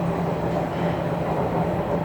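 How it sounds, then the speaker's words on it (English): A Toronto subway train arrives at a northbound platform, producing a steady rumbling roar with a faint tonal hum, loud and continuous throughout. "getting off the train that's just arriving"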